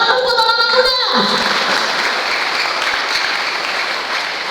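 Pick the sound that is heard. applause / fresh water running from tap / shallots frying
applause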